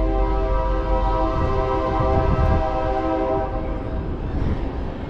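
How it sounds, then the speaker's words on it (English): A loud train rumbles steadily past with a sustained horn tone, close and continuous, fading slightly toward the end. "There's our loud train."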